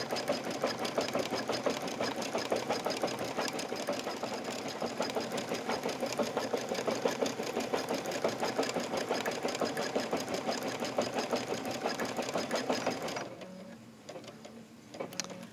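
A Brother embroidery machine stitches couched yarn onto an in-the-hoop pillow, a steady rapid mechanical chatter running loud and continuous for about thirteen seconds before stopping abruptly, leaving only faint quiet noises.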